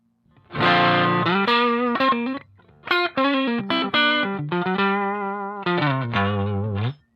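Distorted electric guitar through a BOSS GT-8 crunch patch, playing chords and short riffs with a gritty crunch tone, loud and up close, with brief pauses between phrases.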